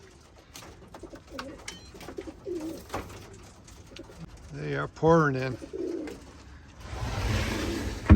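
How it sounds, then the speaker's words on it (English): Young racing pigeons, hens among them, coo and call as they land at the loft during a race, with a loud burst of cooing midway. Someone talks over the birds, and a rush of wind-like noise closes the clip. "birds are coming in fast now"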